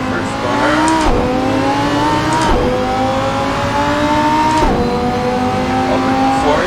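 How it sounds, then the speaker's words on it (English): A race car engine in the driving simulator Assetto Corsa screams as it accelerates through the gears, its pitch climbing steadily and then dropping sharply at each upshift, loud and continuous throughout. "Put the clutch in into first gear and off we go."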